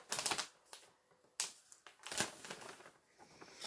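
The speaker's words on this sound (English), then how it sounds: "It's making noise. Crinkle paper noise." Christmas presents wrapped in paper give off crisp crinkling and rustling, heard up close in several separate bursts with short quiet gaps between them.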